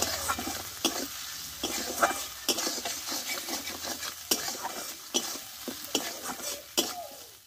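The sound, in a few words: spices and tomatoes being sautéed in a pan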